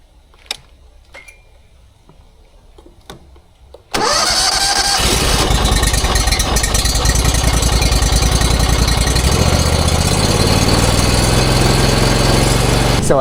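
The engine of a pressure washer is started with a few quiet handling clicks first, then catches and settles into a loud, steady close-up running drone that continues to the end.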